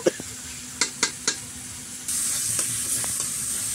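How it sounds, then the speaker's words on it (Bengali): Minced meat frying with spices in a pan, a few sharp stirring scrapes and taps against the metal, then a louder steady sizzle as the meat hits the heat, with occasional scrapes. "এটা আমি ভালো করে মশলা দিয়ে কষে নিচ্ছি"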